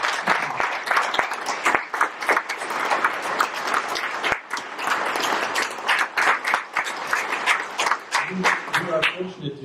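Audience at a police department awards ceremony in Barre, Massachusetts applauds: dense, loud clapping with sharp individual claps standing out, sustained for several seconds before a voice begins speaking near the end.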